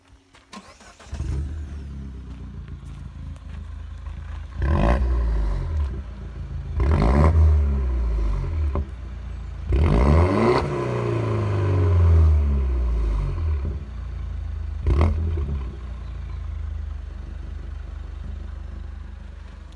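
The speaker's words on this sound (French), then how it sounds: "Je vais vous faire écouter le bruit parce que du coup il y a un petit échappement" A Peugeot 208 engine revs repeatedly in sharp bursts, rising and falling with a raspy exhaust note between short idle stretches, close by.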